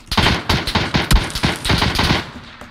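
M416 assault rifle fire in the battle royale game PUBG, a rapid string of close, loud, punchy shots in short bursts, roughly a dozen cracks with no voices.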